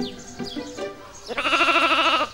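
A sheep gives one clear, wavering bleat in the second half, loud and close, after a few softer animal-like sounds.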